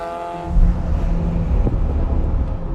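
A race car laps Sonoma Raceway in pursuit of a Porsche 997 Turbo; a steady, loud engine roar holds throughout with wind buffeting, rising sharply after a brief quieter start.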